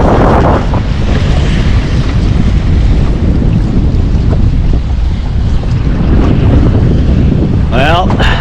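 Steady wind roars across a yacht under sail off Chilikof Island, broadband and loud throughout with wind buffeting the microphone, water wash beneath, and a brief higher whistling creak near the end.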